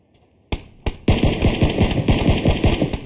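Gunfire in the PUBG video game: two single shots, then a rapid burst of automatic fire, loud and close, with no talk.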